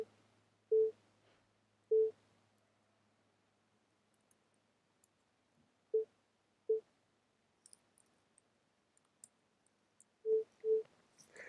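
A synthesized tone shaped by an envelope in Pure Data sounds as short, clean beeps, mostly in pairs, separated by long silent gaps. The tone is quiet, with faint clicks between the beeps.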